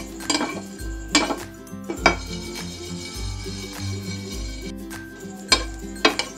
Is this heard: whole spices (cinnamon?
yes